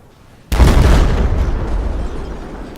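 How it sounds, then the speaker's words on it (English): A dune buggy blows up in a video game with a sudden loud, close boom that cuts in after a short quiet and then rumbles on as a long, slowly fading roar. "Now that was a dune buggy or whatever exploding"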